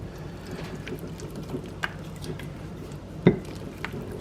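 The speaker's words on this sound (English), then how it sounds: "Give it a stir" A spoon working through thick brownie batter with peanut butter in a bowl, soft wet scraping and squishing with occasional light clinks against the dish, one sharper knock near the end, close and fairly quiet.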